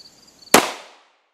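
A single sharp, loud 9mm shot from a Smith & Wesson M&P with a 4.95-inch barrel, firing 123-grain FMJ ammunition at an outdoor velocity test, with a short decaying tail and nothing after it.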